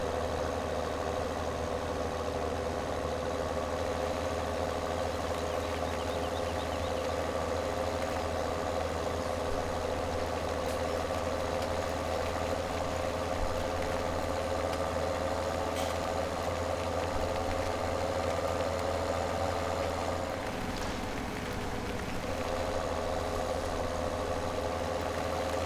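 A farm vehicle's engine in Farming Simulator 17 drones steadily at a constant mid-low hum, as if idling or cruising, and stays unbroken throughout with only a slight dip near the end and no voices.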